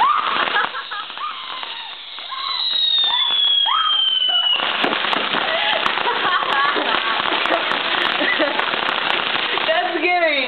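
Fireworks set off in a backyard, bursting and crackling loudly and continuously at close range, with a rising whistle early on. Children's voices are heard talking over the bangs.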